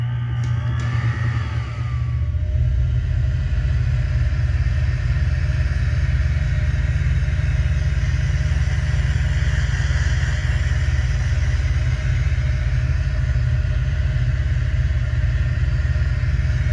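A lathe spins a Seeker F100 fishing rod blank with a steady, low, continuous motor rumble and hum that stays constant and close, with a brief higher whine near the start.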